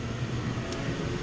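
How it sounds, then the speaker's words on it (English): A garage heater runs with a steady, broad droning whir, close and constant, filling the space without any talk. "sorry about the heater noise"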